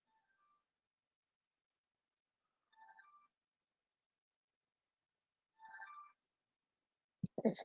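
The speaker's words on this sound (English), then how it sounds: "because I'm getting a phone call." A phone rings with an incoming call during a race broadcast, three short melodic ringtone bursts spaced a few seconds apart, faint and otherwise silent, before a voice begins speaking at the end.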